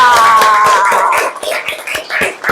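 Pupils in an Islamic religious education classroom clap along in a quick, steady rhythm, close and loud, with a brief voice at the start.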